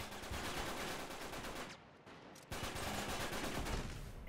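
Gunfire in an Uncharted 3 online match, with dense bursts of rapid automatic shots that stop briefly midway and then start again, fairly faint and with no talk.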